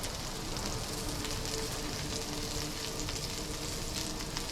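Anchovies and oil frying in a pan while making a beef stew, a steady, dense sizzle and crackle that holds evenly throughout without any talking.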